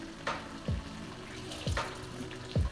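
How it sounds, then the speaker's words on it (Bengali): Hot water poured in small amounts into a simmering Bengali-style crab curry, giving a soft splashing hiss over a sizzling pan, with a few short soft bursts close by. "এবার একটু অল্প করে আমি গরম জল দেবো।"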